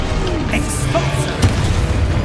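Expulso explosion spell going off in the video game Hogwarts Legacy, a short booming burst amid continuous game sound, with a voice nearby.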